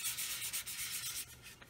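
Sanding stick rubbed over the plastic wings of a Roden C-141B Starlifter scale model kit, a close, quiet, rhythmic scratchy rasp of quick back-and-forth strokes.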